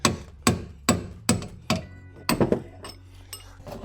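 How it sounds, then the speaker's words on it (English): Sharp metal-on-metal hammer strikes on a punch, driving a rust-seized sway bar link out of a Ford Escort rear suspension; about eight ringing blows at an irregular, roughly half-second rhythm, close and loud, with no talk. "I think now I can get on that with a punch and a hammer and drive it on out of there"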